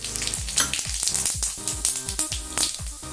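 Cumin seeds sizzle in hot oil in a pot on a gas stove, a close, busy crackle with sharp popping bursts over a constant frying hiss.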